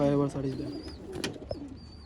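Pigeons for sale in Bangalore give a low cooing call at the start, then softer bird chirps follow with background noise and brief voices.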